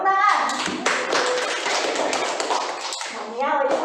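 Children in a classroom clap together for quiz winners, a fairly loud, dense patter of small hands under an adult voice speaking at the start and end.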